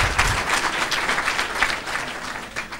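An audience at a university ceremony applauds the rector, Professor Lamine Gueye, with steady dense clapping throughout, fairly loud and sustained.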